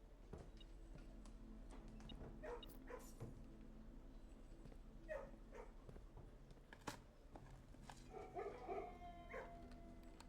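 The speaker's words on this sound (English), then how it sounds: "Bark, bark, bark." A dog in the Blue Prince video game gives faint, scattered barks and yips over a low, steady background hum, with no talking.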